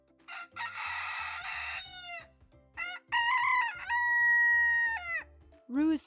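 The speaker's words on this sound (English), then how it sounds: "Rooster." A rooster crows several times, loud and close, with drawn-out harmonic calls and clucks over a low repeating musical background.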